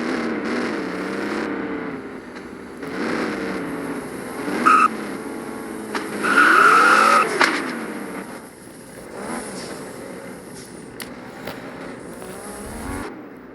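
An engine revs and whines in the Prodigy Drift driving game, rising and falling as the car accelerates, with brief bright tire squeals during drifts, loud and continuous.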